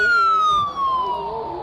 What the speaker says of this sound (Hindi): पुलिस का सायरन बजा रहा है क्या?